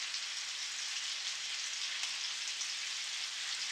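Meat sears in a very hot pan with olive oil and butter, giving a loud, steady, close-up sizzling hiss that carries on unbroken with no talk.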